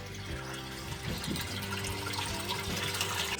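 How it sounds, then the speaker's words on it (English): Water pouring into a 15-gallon sprayer tank mounted on a 2004 Honda Foreman 450 four-wheeler, a steady loud gushing and splashing that continues throughout. "Now I'm gonna put 15 gallons of water in this tank."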